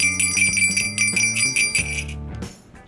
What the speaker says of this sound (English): But then we get this far and it is a jingle bell